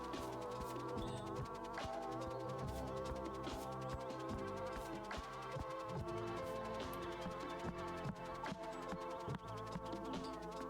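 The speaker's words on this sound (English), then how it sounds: "This bee is fighting me." A bee buzzes steadily and close by during outdoor topiary work, its drone continuous throughout with a few sharp knocks and rustles over it and no talking.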